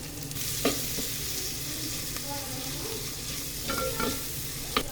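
Onion, ginger, cardamom, star anise, kasuri methi and other whole spices fry in oil for tomato rice, a dense continuous sizzle with occasional spoon clinks and scrapes against the pan, near and without talk.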